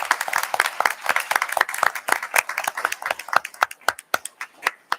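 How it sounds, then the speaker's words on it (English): Hands clapping in a round of applause for school principals at a public school board meeting, sparse and distinct individual claps from a small audience, close and clear, thinning out toward the end. "let's give them a round of applause"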